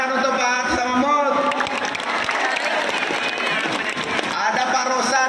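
A big crowd of volunteers claps steadily and loudly at a political rally in Makassar, a few cheers mixed into the continuous applause, while an amplified speaker talks over it.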